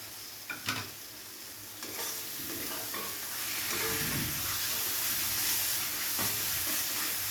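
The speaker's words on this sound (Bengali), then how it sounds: "টমেটো কুচিটা দিয়ে মশলার সাথে খুব ভালোভাবে নেড়ে চেড়ে" Chopped tomatoes are stirred into spices in a hot pan, a steady close sizzle under scraping strokes of a spoon, with a few light knocks at the start.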